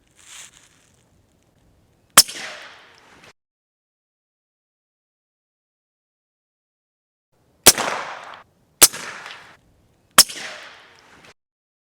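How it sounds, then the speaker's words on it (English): A suppressed Bear Creek Arsenal 300 Blackout bolt action rifle with a 16-inch barrel fires four sharp, muffled shots outdoors into a dirt mound, one alone and then three spaced a couple of seconds apart, each with a short fading tail. "with the same 8-inch suppressor with the 16-inch barrel, it kind of looks like a musket, but it's, I think, much quieter."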